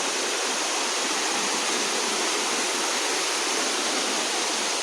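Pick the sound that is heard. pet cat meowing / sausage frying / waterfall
waterfall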